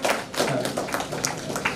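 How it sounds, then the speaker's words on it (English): An audience claps at the 104th Annual Conference of the Indian Economic Association, a sustained, moderately loud patter of hands with a few sharper taps over a roomy hall background. "We must clap him."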